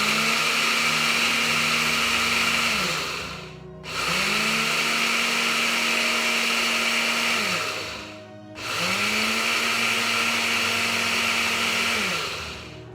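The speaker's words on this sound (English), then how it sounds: "I think that's about as fine as I'm gonna get it with a blender." A kitchen blender grinds coffee beans in three loud bursts of a few seconds each, its motor whining up to speed and winding down between pulses.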